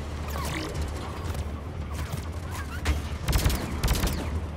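Gunfire in the video game Mass Effect 3, a dense run of shots and bursts over a steady low rumble of game background noise, with the firing thickening toward the end.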